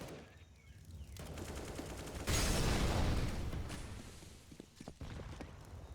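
A grenade blast and gunfire in a Counter-Strike match on the Ancient map: scattered rifle shots build to a sudden loud explosion midway, followed by a decaying roar and more sporadic shots.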